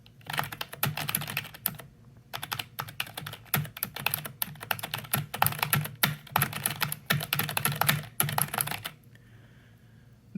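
A Corsair K57 keyboard is typed on up close in steady, rapid runs of soft, muted keystrokes, with short pauses between bursts and a quiet stretch at the end.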